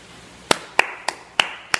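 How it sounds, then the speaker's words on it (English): Five slow, separate handclaps from one person, crisp and close, spaced unevenly apart in an otherwise quiet room. "I applaud you."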